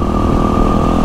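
A WR dirt bike engine roars loud and close during a trail ride, a steady buzzing drone with no pause or talk.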